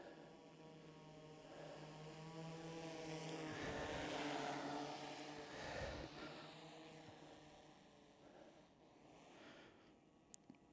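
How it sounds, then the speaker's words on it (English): A camera drone flying slowly in cine mode gives off a steady buzzing propeller whine that swells louder in the middle and then fades as it moves away, with no talking. "So we're gonna change it to cine mode. And all this does is it slows down the drone."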